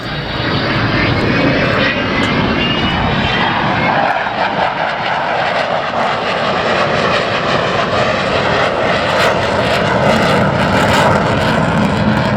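Avro Vulcan XH558 bomber jet flying at a display, a loud, sustained engine roar that swells and holds throughout, with no talk.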